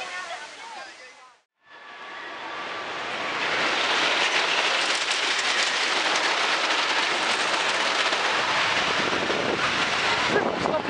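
Stampida wooden roller coaster train at PortAventura racing along its track, a loud sustained roaring rumble with wind buffeting that builds after a brief drop-out and holds steady.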